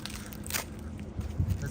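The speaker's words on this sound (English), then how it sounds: "Let's have some crispy leaf ASMR." Crunching of crispy dry ginkgo leaves underfoot or in hand on a Tokyo autumn walk, a few close, quiet crackling crunches in quick succession against faint outdoor background.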